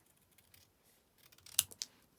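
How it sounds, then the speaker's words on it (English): Big scissors snip through card-making paper, a couple of crisp close cuts after a few faint rustles, quiet overall. "I'll use my big scissors. And then we're just going to cut"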